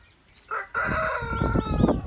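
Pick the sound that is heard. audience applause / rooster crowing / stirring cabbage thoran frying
rooster crowing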